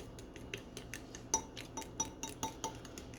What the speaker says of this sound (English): I'm not good at whisking, as you can tell